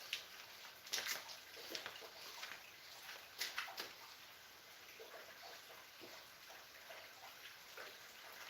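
Water draining away through an outdoor drain, faint and trickling, with a few brief louder splashy gurgles scattered among the quieter flow.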